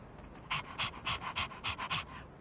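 A dog in Persona 3 Reload pants in a quick rhythmic run of about eight breathy huffs, close and clear, with nothing else heard.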